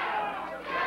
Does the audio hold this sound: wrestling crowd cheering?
yes